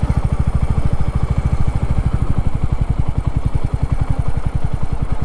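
A motorcycle engine idles steadily and loudly nearby at the gate of the Satakshi Dham religious site in Jhapa, its rapid even thumping holding without pause.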